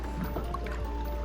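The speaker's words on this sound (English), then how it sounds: "As we paddled up the river," A kayak paddled up a spring-fed river toward Rainbow Springs, with soft, close water sloshing and light dripping splashes from the paddle over a steady low background hum, no voices.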